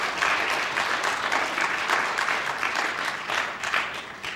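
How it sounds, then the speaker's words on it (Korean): A church congregation claps warmly as a preacher comes forward, a steady dense wash of applause holding at an even level throughout with no talk over it. "이 시간에 전도사님 나오실 때 한번 격려로 한번 뜨겁게 박수 한번 합시다"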